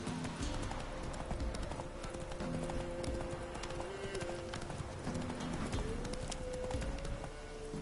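Steady clip-clopping of a ridden horse's hooves in The Witcher 3, a continuous even gallop-like rhythm heard up close through the whole stretch, mixed with game ambience and background tones.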